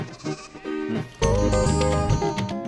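A sheep bleats in a wavering, nasal cry set against a dense mix of music and scene sound, its call rising through the busy, loud backdrop.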